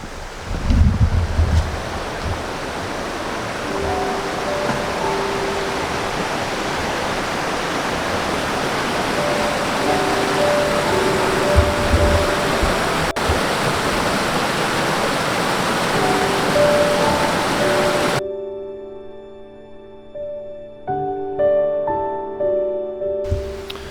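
A waterfall on a Northern Wisconsin river in autumn rushes with a loud, steady, broadband roar for most of the stretch, then drops away abruptly to a much quieter background near the end.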